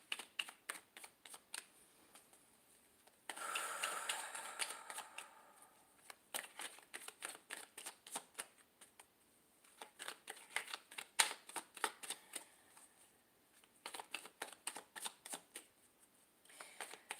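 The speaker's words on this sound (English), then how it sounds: "I'm going to shuffle you out one more." Tarot cards are shuffled by hand in repeated bursts of quick, crisp riffling flicks and soft slides, close and clear, with short pauses between rounds and no talking.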